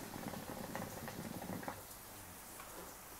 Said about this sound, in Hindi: मैं अभी हुक्का पी रहा हूँ।